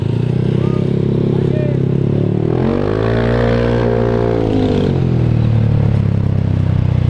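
A Honda Vario fitted with a new custom roadrace-style exhaust drones steadily, then revs up and settles again mid-ride, loud and near, while someone talks over it.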